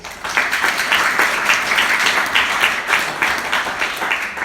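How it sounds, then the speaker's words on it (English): An audience at a Birdfair 2019 debate gives a round of applause, a steady, fairly loud wash of many hands clapping that swells and rolls on for several seconds. "Let's have a round of applause."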